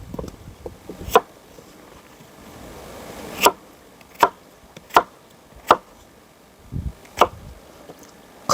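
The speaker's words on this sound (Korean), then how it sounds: "칼질이 그냥 아주 과감하세요" A knife strikes a cutting board in sharp, sparse chops, about eight loud hits at uneven intervals with quiet pauses between, while cutting green onions or cucumbers for kimchi.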